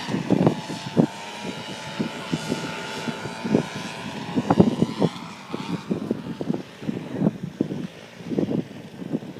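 Paramotor engines drone overhead at a Palm Bay fly-in in cold, high wind, the sound rising and fading as they pass, mixed with gusty wind buffeting the microphone.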